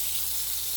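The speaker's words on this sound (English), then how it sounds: "put them in the skillet here. Got Mr. Sizzling going." Deer tenderloin steaks sizzle in a hot skillet in a home kitchen, a steady close hiss of frying with no talk over it.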